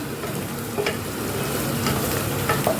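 Onion frying in a pan with pieces of heart, kidney and pepper makes a dense, even sizzle throughout, broken by a few faint scrapes of stirring.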